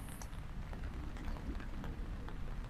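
Soft, steady rain patters outdoors at a bonsai garden, a faint continuous hiss with scattered drop taps and no voices.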